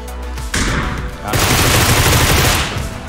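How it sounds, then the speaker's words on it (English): Sustained bursts of video game gunfire from a battle-royale match, an enemy firing from behind: a short loud crack, then dense rapid automatic fire that carries on for about two seconds, close and loud. "this guy's shooting at us from behind"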